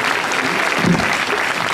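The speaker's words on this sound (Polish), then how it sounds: "Wielkie brawa, to jest niezaprzeczalny talent." Audience applause at an outdoor fair, the St. Dominic's Fair, for a street musician; a dense, steady clapping crowd holds at an even level throughout.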